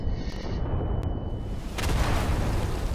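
Grenade and artillery explosions in Day of Infamy, a continuous rumbling roar of blasts with a heavier burst swelling in the second half, loud and close.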